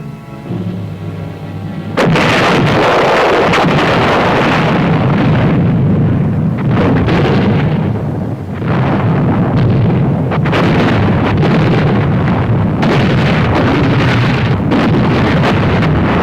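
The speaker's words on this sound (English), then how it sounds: "The barrage to soften up the enemy began. Artillery, mortars, and other supporting weapons." An artillery and mortar barrage from a WW2 U.S. Army training film, a loud sustained rumble of heavy gunfire and explosions that starts abruptly after a short quieter lead-in and rolls on without a break.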